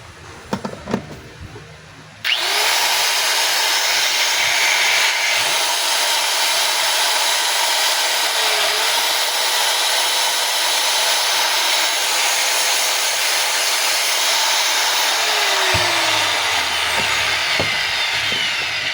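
A DeWalt DW810 4-inch angle grinder, just fitted with new carbon brushes, starts up and runs at a steady high-pitched whine for about sixteen seconds before winding down.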